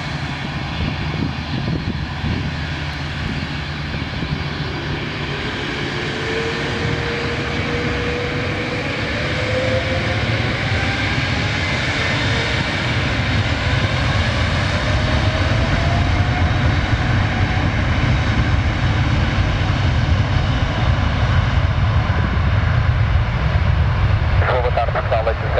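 A TAP Air Portugal Airbus A330neo takes off from the Lisbon airport runway, its jet engines giving a loud, steady roar that builds and holds. Radio chatter plays over the engines.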